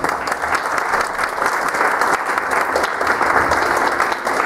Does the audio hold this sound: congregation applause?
yes